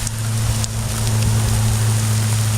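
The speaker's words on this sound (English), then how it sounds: "You know how in the movies, out of nowhere, just downpours" A sudden rain downpour roars steadily and loudly all around, a dense hiss of drops on surfaces with a low constant hum underneath and no talk.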